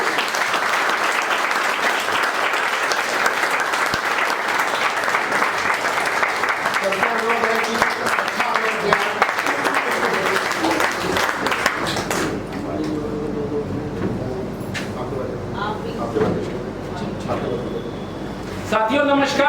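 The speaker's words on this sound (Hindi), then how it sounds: "आपकी जबरदस्त तालियों के बीच इस मंच पे आमंत्रित करना चाहूंगा" An audience at a business leaders' meeting gives loud, sustained applause as a speaker is welcomed onto the stage, dense clapping that thins out in the second half while a voice speaks over it.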